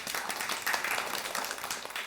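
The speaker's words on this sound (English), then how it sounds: "let's again give it a huge round of applause for him" Audience applause at a campus talk with a guest speaker, a dense, steady burst of many hands clapping together, close and full, lasting about two seconds with no talking.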